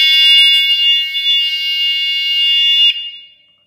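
Electric bicycle horn bell sounding as one loud, piercing electronic tone held for about three seconds, close up, then stopping sharply with a short fading tail.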